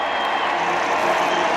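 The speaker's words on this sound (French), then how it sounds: "acclamée par la foule" Crowds cheer the British queen with a dense, steady roar of many voices and applause, continuous and fairly loud throughout.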